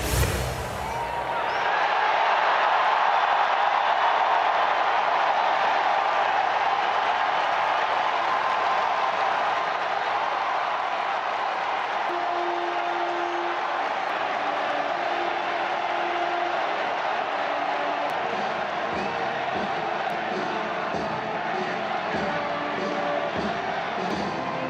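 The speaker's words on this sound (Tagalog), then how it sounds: "The crowd at St. Peter's Basilica erupted in cheers on Thursday as white smoke billowed from the chimney of the Sistine Chapel." A large crowd in St. Peter's Square at the Vatican reacting after a papal election, a broad sustained roar of distant massed voices and applause that stays steady throughout.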